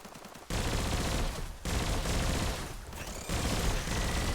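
Bursts of spread-shot bio rifle fire in the video game Biomutant, loud dense volleys starting about half a second in and recurring in several clusters with brief dips between them, no talking over them.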